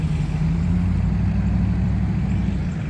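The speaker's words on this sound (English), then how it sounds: "I hear them trying to hit the gas, but their wheels aren't spinning for some reason." A stuck vehicle's engine drones steadily in dirt with a low, continuous rumble as the driver presses the gas, holding near-constant loudness with no clear revving peaks.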